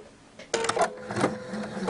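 A sewing machine runs a zigzag stitch, 3 mm wide, directly over a sewing thread to make a cord. The motor kicks in abruptly after a quiet moment and keeps up a busy, close mechanical whirring.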